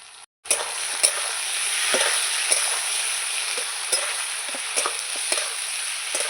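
Fish masala with salt and turmeric being stirred in a frying pan for a katla fish belly curry. A continuous close sizzle is broken by a short gap at the start, then repeated light clicks and taps of the spatula.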